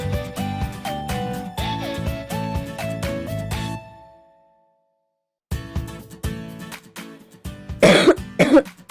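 A woman with a three-year persistent cough coughs in several short bursts, each with a tonal, throaty edge, then falls silent for a moment before more coughing and a harsh throat-clearing sound near the end.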